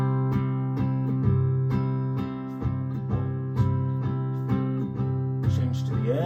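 A basic 12-bar blues progression in C played in a steady, even rhythm, repeated chord strikes moving through a few changes, close and clean with no voices.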